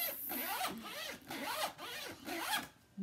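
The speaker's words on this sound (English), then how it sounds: "it does come with a top zipper. So like, it zips so smooth too" A Michael Kors Sady medium tote's top zipper runs smoothly in several quick, close rasping strokes, each pull a bright sweep separated by brief pauses.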